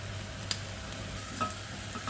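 Vegetables for a butternut squash and chickpea curry are stirred in a hot pan, sizzling steadily with a soft scrape or clink of the spoon now and then; no one talks.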